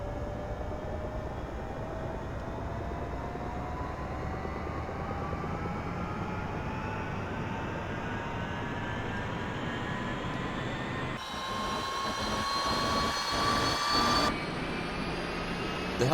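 A UH-1 Huey helicopter turbine engine in a flight simulator whines steadily upward in pitch as it spins up during a cold start, a rising mechanical hum that grows slightly louder near the end.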